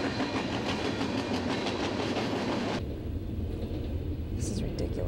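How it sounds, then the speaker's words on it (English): A long coal freight train rumbles steadily past nearby with a clattering roll of wagons that suddenly drops to a quieter rumble as the cars thin out. "What is up with all these trains lately?"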